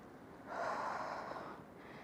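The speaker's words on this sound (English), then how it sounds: "Breathe in all the way, full lung capacity, and then slowly breathe out." A single deep, slow exhale during a morning exercise routine, a steady breathy rush lasting about a second and a half, close and soft with no speech.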